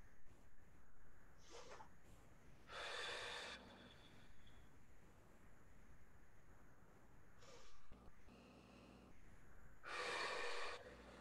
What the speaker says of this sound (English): breathe in through your nose again